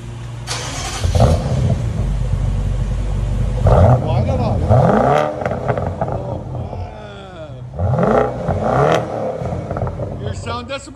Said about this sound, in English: He's about to start this beast,